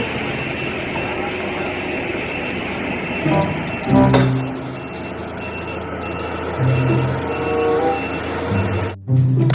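A toy forklift gives off steady electronic reversing beeps along with a synthetic engine rumble. The beeps are loud and continuous and repeat in a regular rhythm.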